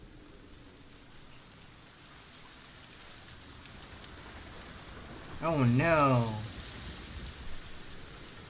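Steady rain falls across a stormy landscape in the video game Death Stranding 2, a soft constant patter throughout, with a brief spoken exclamation breaking in partway through.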